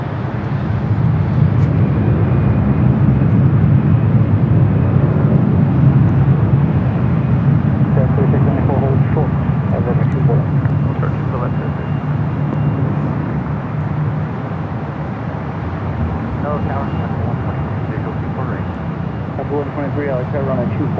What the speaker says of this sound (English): Delta A319 lining up 24 left